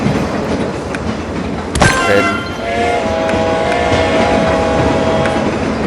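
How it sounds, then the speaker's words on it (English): A train rolls past in the TrainStation 2 mobile game, loud and continuous, with a horn-like tonal blast partway through over rumbling wheels, and a brief spoken word. "let's let the train pass"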